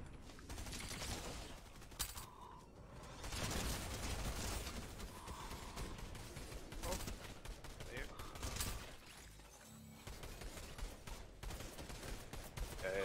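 Video game gunfire in a busy multiplayer match, bursts of rapid shots and mechanical clatter scattered through steady game noise, moderately faint, with players talking over it.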